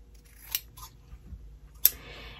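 Scissors snip through quilting fabric while a sewer trims pieces for a triangle geese block, giving two short, crisp cuts close by, the second louder, in an otherwise quiet room.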